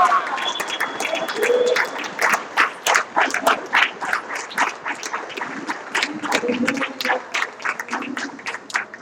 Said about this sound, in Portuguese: Fique de pé aplaudindo ao Senhor